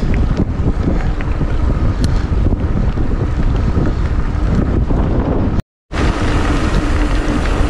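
Strong wind on open plains roars steadily across the microphone, a loud continuous buffeting rumble that cuts out briefly near the end before resuming.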